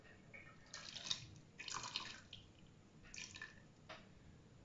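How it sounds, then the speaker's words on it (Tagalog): Water is poured in brief soft splashes, a couple of short gurgling bursts close by, quiet and with no talking. "Kunting tubig."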